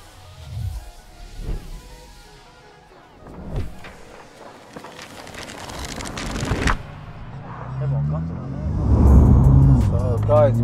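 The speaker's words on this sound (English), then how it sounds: "Hear that ZF box straight away. Oof, listen to your turbo" A 1300 hp BMW G80 M3 with a ZF automatic gearbox and turbo is driven, its engine note rising from low to loud with rumbling pulls and brief shifts, while people talk in the cabin.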